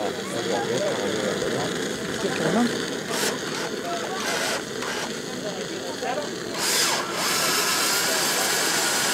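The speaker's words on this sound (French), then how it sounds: "On chauffe et on tourne à la visseuse." Cordless power screwdriver turning while glue is heated, a busy whirring drone with short bursts and pauses, close by over room noise and background chatter.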